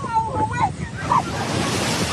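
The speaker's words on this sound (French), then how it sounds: "Sur les côtes, des vagues de plus en plus puissantes." Powerful surf pounds the coast during Hurricane Beryl, a steady loud roar of crashing water and wind noise filling the whole clip.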